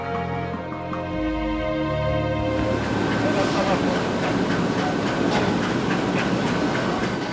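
A commuter train in Maputo rumbles past with a low rolling roar that builds into steady broadband rail noise and faint rhythmic clatter, loud and sustained throughout.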